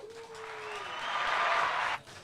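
A crowd applauds guest Grant Williams at a live sports event, the clapping swelling steadily for about two seconds before it cuts off abruptly.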